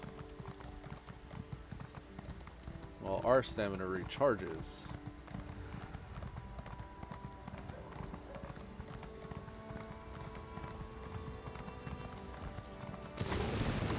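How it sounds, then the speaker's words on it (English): Steady rhythmic hoofbeats of a galloping horse run throughout, with a brief voice speaking partway through and a burst of noise at the end. "we're going to pull out our horse and use up his stamina"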